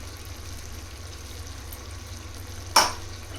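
Cashew paste hits hot oil in a pan while making chicken pulao, giving a steady close sizzle and frying hiss, then one sharp splattering burst as the paste goes in, with no talk.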